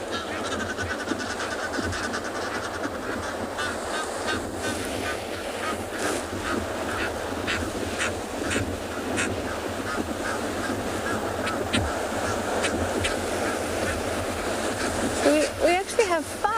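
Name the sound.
Egyptian geese calling on the seashore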